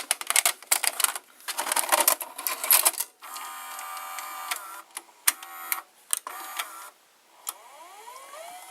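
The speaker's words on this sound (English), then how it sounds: "So now the idler motor is working." The idler motor of a Zenith VRD208 VCR runs with mechanical clicking, whirring and rattling, busy and close at first, then sparser clicks and faint whirs with brief gaps of quiet.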